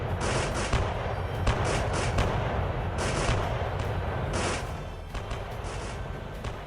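Artillery and gunfire roll through a simulated 1805 Napoleonic battle at Austerlitz, a dense continuous rumble broken by repeated sharp bursts of shots, loud and sustained with no speech.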